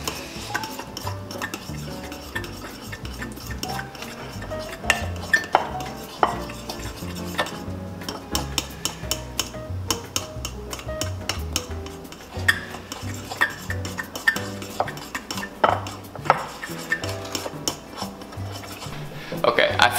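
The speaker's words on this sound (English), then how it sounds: "Now we just mix it, we just beat it vigorously for 2 minutes" Butter mixture beaten vigorously in a bowl, a fast continuous scraping and clattering of the utensil against the sides that runs on without pause, close and busy.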